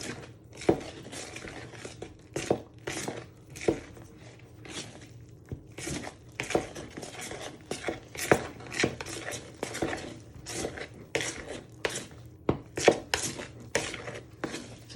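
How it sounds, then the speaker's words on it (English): A knife mixes strawberry donut dough in a mixing bowl, making rapid, irregular tapping and scraping strokes against the bowl, close and clear with no talking. "want to proper bind this together using a knife"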